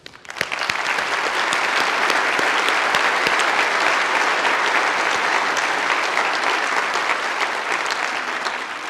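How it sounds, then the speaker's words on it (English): A large audience at the IAAPA Attractions Expo 2018 kickoff event bursts into loud, sustained applause that swells quickly and holds as a thick, even roar of clapping. "they deserve a round of applause much,"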